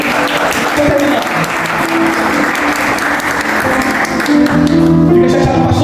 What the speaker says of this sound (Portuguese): Será que você pode aplaudir, Senhor?